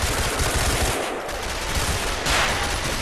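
Rapid automatic gunfire rattles loud and continuous in a GTA police-mod SWAT shootout, sustained bursts filling the scene with no talk over them.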